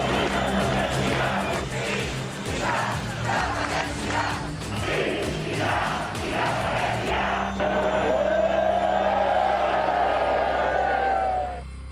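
A large crowd outside the Catalan parliament celebrates an independence vote, loud sustained cheering, whooping and yelling, with a rising shout swelling near the end.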